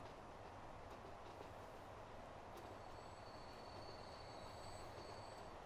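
A long grain train pulling away in the Transport Fever game, a steady low rumble of rolling wagons with faint high wheel squeal running throughout, no talk.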